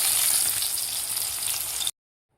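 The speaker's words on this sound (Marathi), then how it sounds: "फ्राय झालेले आहेत वांगे" Eggplant pieces sizzling in hot oil in a pan, a steady loud frying hiss that stops abruptly near the end.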